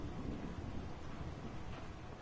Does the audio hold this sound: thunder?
yes